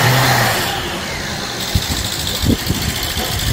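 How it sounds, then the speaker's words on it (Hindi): Rolls-Royce V12 car engine, a 2010 model just refitted with new valve cover gaskets, catching and running with a steady mid-range drone and a few short revving bursts near the end. "ये गाड़ी स्टार्ट हो गई है"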